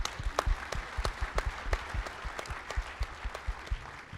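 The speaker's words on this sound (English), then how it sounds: "let's give them a round of applause for a great" Applause from an audience at a new-administrators program meeting, steady and moderately close, with distinct individual claps rising and falling across the whole stretch and no voices over it.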